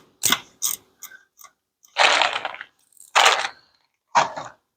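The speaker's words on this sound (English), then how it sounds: "a ratchet." A hand ratchet clicks in short bursts while repairing a Fiat Ducato camper van, several quick separate ratcheting runs up close, each a sharp rasping burst followed by brief silence.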